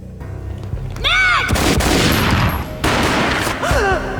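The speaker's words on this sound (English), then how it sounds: "A gunshot boomed and she fell down in slow motion." Loud burst of gunfire in the Max Payne video game, a dense fusillade of booming shots with a shouted voice just before and a pause mid-volley before more fire.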